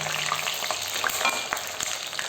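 Garlic and curry leaves fry in oil while making tomato thokku, a dense, continuous hiss and sizzle with faint crackles, close and steady with no voices.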